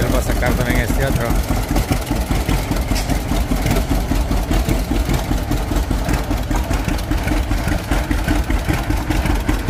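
A 1937 vintage tractor engine idles steadily up close, a loud, even low-pitched chugging that continues throughout.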